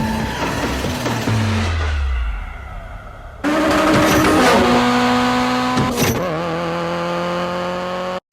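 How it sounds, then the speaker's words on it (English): A Mitsubishi Eclipse in a racing game revs hard, then drops in pitch as it coasts. A sharp shift cuts in and the engine climbs again through a second gear change, loud and close, with no talk. "The shift sound of Brian's Eclipse as well"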